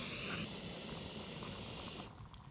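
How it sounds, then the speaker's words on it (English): A Jetboil camping stove burner roars steadily while heating water for coffee at a motorcycle campsite, a soft, even hiss up close that dips slightly near the end. "Making coffee with the jet boil system."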